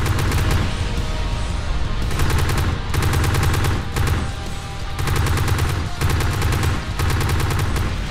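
Heavy, sustained video-game gunfire from a dogfight with Stinger aircraft, dense rapid bursts in repeated volleys with brief gaps, loud and close throughout.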